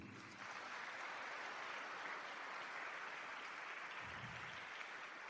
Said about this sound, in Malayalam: നിങ്ങളുടെ എല്ലാവരുടെയും നിറഞ്ഞ ഒരു കയ്യടിയോടുകൂടി